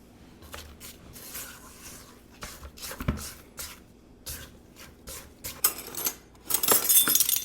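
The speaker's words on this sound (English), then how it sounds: "then I'm going to stir with a spatula" Spatula work in a bowl of baking soda and almond flour for gluten-free shortbread cookie dough gives soft intermittent scrapes and light clinks against the bowl, quiet and close, growing busier near the end.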